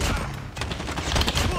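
Rapid gunfire from a pistol in the mobile shooter Call of Duty Mobile rattles out in a dense, loud burst of shots, with someone talking over the game audio.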